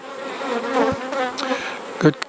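Honey bees buzz steadily in a close, humming drone that wavers in pitch, with a brief louder burst near the end.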